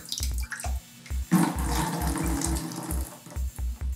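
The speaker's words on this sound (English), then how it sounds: "so we take a sponge and a bucket" Water is squeezed from a sponge into a bucket after being soaked up from a toilet tank, with a steady trickling pour broken by repeated low thumps of handling nearby.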